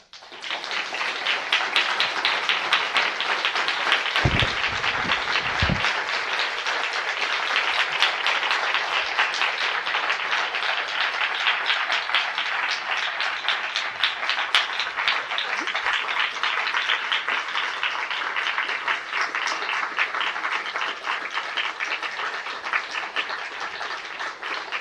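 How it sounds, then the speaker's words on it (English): Standing ovation from an audience at a military medical event honoring an Air Force major physician, a dense, steady roar of clapping that fills the whole stretch at close range, with a few brief low thumps near the start. "gets a standing applause"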